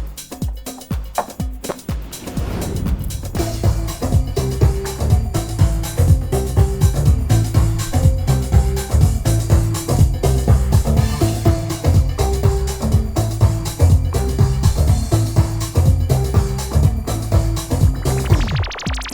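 A house track plays steadily, with a thumping four-on-the-floor beat and repeating synth stabs that continue throughout at full volume.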